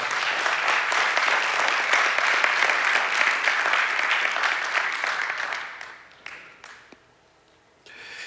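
An audience at a church service applauds loudly and steadily, the clapping tapering off toward the end into scattered claps and near quiet.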